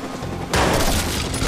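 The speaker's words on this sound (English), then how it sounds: "where am I being shot from?" Gunfire from enemies shooting at the player in the video game Watch Dogs, a sudden loud burst of rapid overlapping shots that kicks in partway through and keeps rattling to the end.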